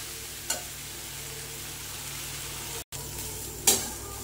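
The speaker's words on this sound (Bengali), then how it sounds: "ঠিক এইভাবে আস্তে আস্তে আমি শাকগুলোকে কষিয়ে নেব।" Leafy greens stir-fried slowly in a pan give a soft, steady sizzle, with a couple of brief scraping stirs of a utensil against the pan.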